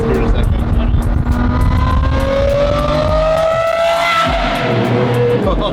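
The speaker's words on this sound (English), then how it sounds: "But we do have an SVJ noise." A Lamborghini Aventador SVJ engine roaring close and loud, pitch climbing steadily through a sustained rev before dropping off sharply near the end, with tire-like squeal and background chatter.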